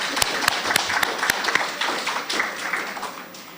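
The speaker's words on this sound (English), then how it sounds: "Another round of applause, please." Audience applause at a capacity-building ceremony after a musical performance, a lively run of sharp, distinct claps that thickens into steady clapping.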